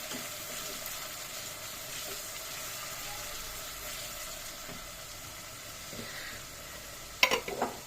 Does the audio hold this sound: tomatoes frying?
yes